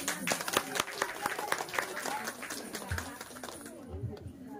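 Guests at a family sangeet celebration clap in welcome, with a burst of fairly close, brisk claps that thins out and fades while voices murmur underneath.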